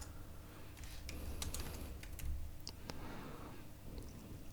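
Computer keyboard typing for a short label: a run of quick, light clicks and taps, close and fairly soft, in uneven bursts over a steady low room hum, with no talking.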